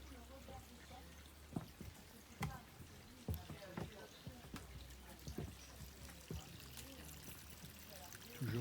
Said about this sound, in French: Toujours de l'eau qui circule.